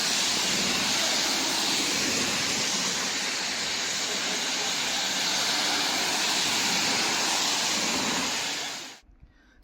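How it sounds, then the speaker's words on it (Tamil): Suruli waterfall in Theni district, swollen by monsoon floods, roars steadily in a dense, loud broadband rush that cuts off abruptly near the end. "சுருளி அருவியில் வெள்ளம் ஆர்ப்பரித்து கொட்டுகிறது"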